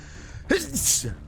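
A single close, loud sneeze bursting out of quiet background hum beneath a StarCraft 2 esports casting broadcast, with a sharp intake followed by the explosive release.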